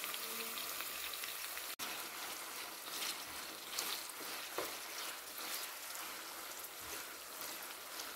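Large pieces of beef fry in plenty of oil for Ethiopian dry tibs, giving a faint, steady sizzle with scattered crackles and pops and no voices.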